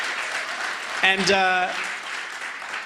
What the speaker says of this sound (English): Can we give them a bigger round of applause,